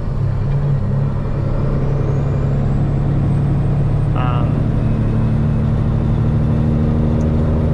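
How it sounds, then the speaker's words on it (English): Air hissing and rushing through the air system of a 2005 multi-axle trailer as it builds pressure back up, a steady loud rumble of the idling truck underneath, with a short squeal partway through. "there's a lot of air going through the system trying to build back up."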